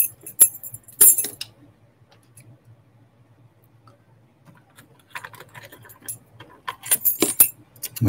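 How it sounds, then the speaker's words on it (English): Keys on Morris LOTO padlocks jingle and clink in two short bursts, quiet clicks fill the gap between them, and there is no talk. "Moving these around, losing some keys."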